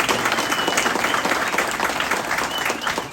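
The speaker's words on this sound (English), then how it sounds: "Again, a round of applause for our Special Olympic athletes." Audience applause for Special Olympics athletes at an opening ceremony, a dense, even burst of many hands clapping, loud and close for the whole stretch.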